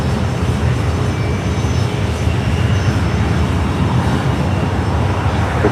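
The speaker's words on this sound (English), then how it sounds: "United Dreamliner up next for arrival on 25 left" A United Boeing 787 Dreamliner on arrival to runway 25 left at Los Angeles LAX airport, a loud, steady engine roar and whine that holds constant throughout, with no talk.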